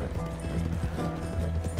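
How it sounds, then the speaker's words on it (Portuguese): A horse gallops steadily in Red Dead Redemption 2, its hooves drumming in a fast, continuous rhythm at moderate loudness with no one talking. "Que esse cavalo do moleque corre muito."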